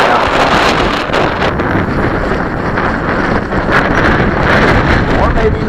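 Strong wind gusting across the microphone at a model plane flying field, making a loud, continuous roaring buffet throughout.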